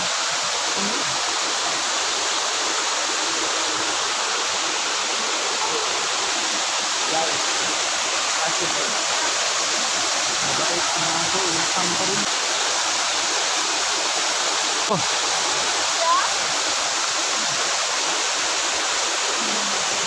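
Steady rushing water of Salakot Falls, a forest waterfall in Napsan, Puerto Princesa, fills the whole stretch as a constant close roar with no talk over it.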